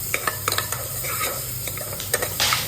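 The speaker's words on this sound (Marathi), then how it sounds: "कांदा व्यवस्थित आपण एकजू करून घेऊया परतून घेऊया" An onion being stirred and sautéed in a pan while preparing home-style mutton rassa, with a steady sizzle broken by quick spoon scrapes and clinks against the pan, close and moderately loud, with no voices.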